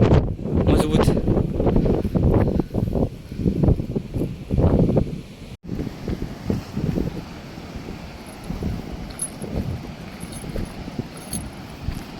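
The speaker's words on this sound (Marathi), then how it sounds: "पाऊस बघा काय झाला आहे पूर्ण वारा सुटला आहे" Loud gusty wind buffets the microphone with a heavy rushing roar, with rain hiss underneath at Bhagwati Bandar in Ratnagiri; a brief dropout midway, then steadier blustery noise.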